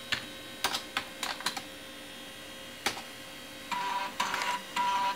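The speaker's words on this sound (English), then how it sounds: "let's just listen to the peaceful sounds of formatting from the A drive" A Mitsumi Newtronics 5.25-inch 1.2MB floppy drive formats a disk. Sharp intermittent clicks and clacks of head stepping come first, followed by buzzing, whirring bursts near the end over a faint background hum.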